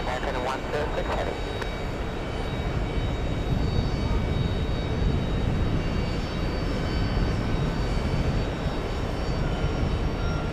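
An American Airlines heavy jet taking off from a JFK runway gives a loud, sustained engine roar that rises slightly and holds, heard from nearby, with speech over the top.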